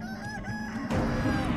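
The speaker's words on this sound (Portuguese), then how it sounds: "essa galinha quer me comer mesmo" A hostile chicken in the horror video game Chicken Feet makes repeated squawking, crowing calls over game music, growing louder and denser partway through.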